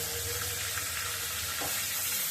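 Onions frying in a pan before catfish is added, giving a steady, close, unbroken sizzle that holds at an even level throughout.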